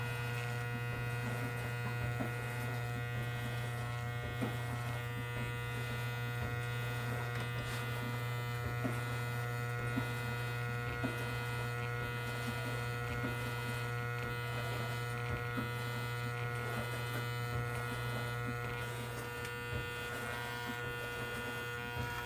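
An electric hair trimmer runs with a steady close buzz and mains-like hum while cutting in a natural hairline, continuous and alone for the whole stretch, with small scraping ticks as the blade moves over skin and hair.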